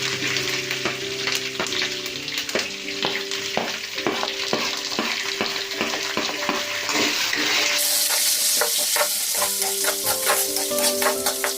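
Avalakki chitranna frying in a pan, with steady loud sizzling and repeated scraping stir strokes of a spatula against the pan, close up and without talk.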